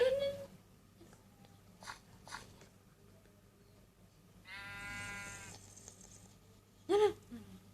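Sheep in the Minecraft video game bleating in short game-style calls, one long wavering bleat mid-way and sharper ones at the start and end, heard faintly alongside quiet chewing sounds.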